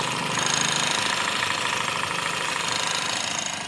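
A Yamaha NMAX V2 scooter engine runs steadily right after starting, a close, even idle with a slight knocking texture, loud and continuous with no talking over it.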